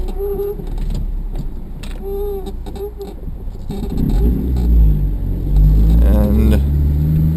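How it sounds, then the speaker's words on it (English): A 2003 Acura RSX Type S with an AEM cold air intake rumbles and revs while being driven, a close cabin engine drone that swells louder as it accelerates. "And the car's kind of loud as well."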